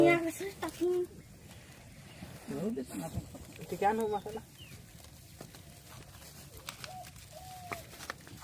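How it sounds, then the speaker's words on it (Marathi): Hens cluck and call in short bursts nearby, with a person's voice talking intermittently among the birds. "इथं आमचा पतू म्हातर कोंबड्यांची अंडी काढते अंडी पण भेटलेली आहेत"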